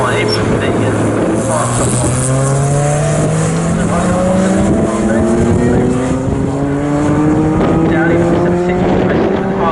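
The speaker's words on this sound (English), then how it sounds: "There is Darren Kell now in that green and orange Mazda MX-5." Green and orange Mazda MX-5 race car at full throttle during a 750 Motor Club enduro race at Snetterton, loud engine note rising steadily through the gears with tyre noise, close and continuous under race commentary.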